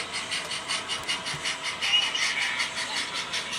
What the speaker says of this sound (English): But I'm still hearing a steam engine sound.